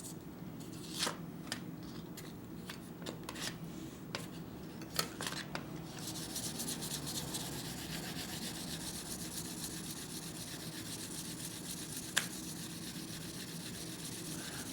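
Blade of a Demko AD20S knife hand-polished to remove the top finish: soft steady rubbing and scraping strokes, a few light clicks early on, then continuous close friction noise.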